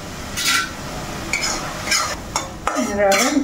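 A utensil scrapes and stirs through vegetable koottu in a pan, several short scraping strokes over a soft sizzle, close and fairly loud.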